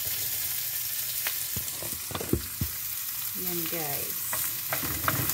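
Garlic sautés in a pan at the start of cooking pancit, a soft, steady sizzle with intermittent stirring clinks and scrapes, while a voice speaks briefly over it.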